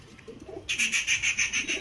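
Jiria Madrasi pigeons cooing, with a short burst of repeated, fairly loud pulsing calls that starts partway in and carries on steadily to the end, with no talking.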